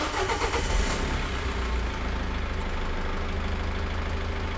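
A Cummins R2.8 diesel engine cranks and fires with a loud burst, then settles into a steady, even idle hum that carries on to the end, close by and with no talking.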